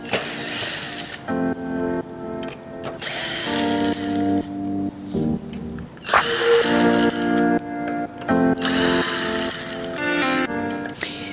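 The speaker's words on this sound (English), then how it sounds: "we also need to do the screw works" Power screwdriver backing screws out of a rental LED screen panel: several long whirring bursts with tonal motor whine, separated by brief pauses and small clicks, close and steady.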